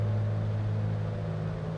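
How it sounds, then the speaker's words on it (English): A simulated aircraft engine in Microsoft Flight Simulator holds a steady, loud, droning hum, even and unbroken throughout, with no voices. "Why did it sound like my engine changed, though?"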